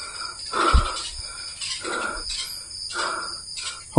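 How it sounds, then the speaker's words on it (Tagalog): Birds calling as they fly overhead, a series of repeated harsh call bursts coming at roughly even intervals, fairly near, with a brief thump and a soft background hum between calls. "Ayan yung mga ibon, mga lolo, nagsisilipad sila."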